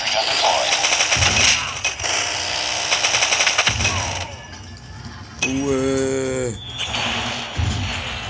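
Sentry gun turret fire in the mobile shooter Call of Duty Mobile, heard as rapid bursts of automatic gunfire broken by short pauses, mixed with other game effects and a brief tonal sound partway through.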